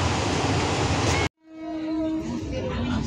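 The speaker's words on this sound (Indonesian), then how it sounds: "Dan setelah ini kereta api Bukit Serelo akan berhenti kembali di tujuan akhir stasiun" The Bukit Serelo passenger train runs on rails between Lubuklinggau and Kertapati with a loud, dense rumble. The noise cuts off abruptly, then returns more quietly as a steady clatter with a faint tonal whine.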